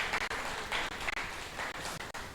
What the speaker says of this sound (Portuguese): vamos uma salva de palmas para Radamés Ovaro e parabéns